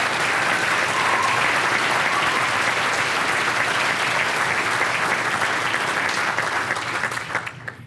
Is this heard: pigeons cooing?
no